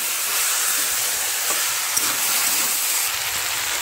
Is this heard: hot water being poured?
no